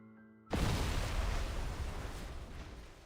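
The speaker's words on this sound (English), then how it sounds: "Are we reliving the trauma of the explosion?" A massive explosion in the video game Love and Deepspace bursts in suddenly after a brief musical lead-in, then a loud, dense roar rumbles on and slowly fades without dying away.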